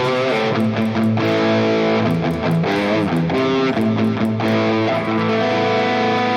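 An electric guitar played through the Marshall Plexi amp model of a Nux MG-30 multi-effects unit, with a crunchy, overdriven tone. Sustained chords and short phrases ring out loud and close throughout, with no talking.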